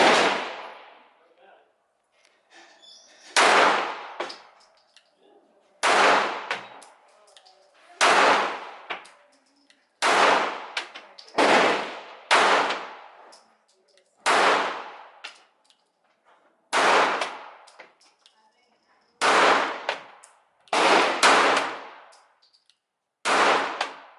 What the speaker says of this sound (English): I'm gonna give a few shots with the Chimichanga.